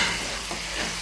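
Peanuts frying in hot oil over a low flame for Telangana-style lemon rice give a dense, steady, close sizzle with faint crackle throughout the brief moment, with no voices.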